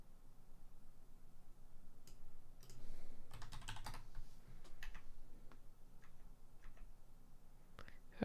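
Typing on a computer keyboard, quiet clusters of quick keystroke clicks in irregular bursts, close and faint in an otherwise still room.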